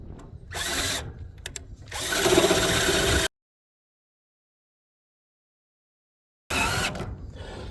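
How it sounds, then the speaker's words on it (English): A power drill whirs in short bursts, then runs steadily as it drives a self-tapping screw into a grill, stops for a few seconds of silence, and starts again. "before I go trying to drill this thing in"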